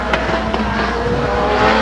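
A Legends race car lapping Stockton 99 Speedway, a steady loud engine drone that holds through the whole stretch with a slight rise at the end, heard at close range from trackside.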